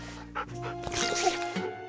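A cartoon dog whimpers and whines briefly in a short, close burst of animated-show audio.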